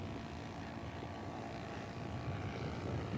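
A radio-controlled scale model airplane with a stuck throttle comes in to land, its engine giving a steady droning buzz at a moderate distance that swells slightly toward the end.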